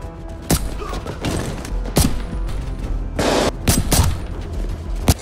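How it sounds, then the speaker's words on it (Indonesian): Gunfire in a film fight scene: repeated sharp shots and short bursts ring out irregularly, loud and close, mixed with thuds and a brief crash. "Baku hantam senjata berlanjut."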